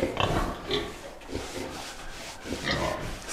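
Pigs and piglets on a Ukrainian farm with a farrowing pen, giving short grunts and snuffling sounds in scattered bursts, close by, with rubbing and shuffling noises between them and no talk.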